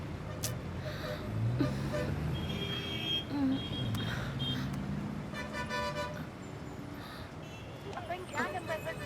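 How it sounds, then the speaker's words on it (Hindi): Busy city traffic with car horns honking, some short toots and some longer blasts, over a constant rumble of engines and road noise. People speak now and then over the street din. "Oh no, इतनी ट्रैफिक।"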